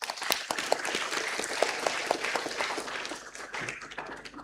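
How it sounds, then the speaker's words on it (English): Audience applause at a military symposium, a steady dense wash of clapping with a few sharp individual claps standing out, fading slightly toward the end. "join me in another huge round of applause"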